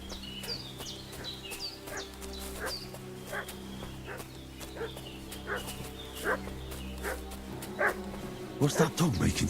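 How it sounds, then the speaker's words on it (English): A dog barks repeatedly in Kingdom Come: Deliverance II, a run of sharp yips and woofs at moderate distance over a steady low ambient hum, with the barking growing louder and more frantic toward the end. "What's that dog making such a fuss about?"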